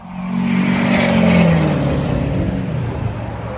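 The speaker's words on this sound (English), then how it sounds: "Loud diesel trucks." A loud diesel truck engine revs up with a deep rumble, then settles into a steady low idle, close by.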